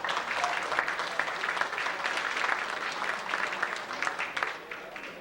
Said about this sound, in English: If you'd like, you could applaud him